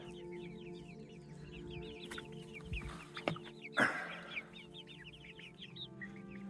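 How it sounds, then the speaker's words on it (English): Chickens in a backyard coop cluck steadily, with a few soft rising calls among them and one louder flurry near the middle, at moderate distance with no talking. "Here they are, here's the old chicks."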